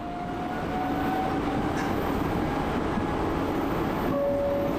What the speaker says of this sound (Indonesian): Sesaat lagi kereta Anda akan tiba di stasiun Jayakarta.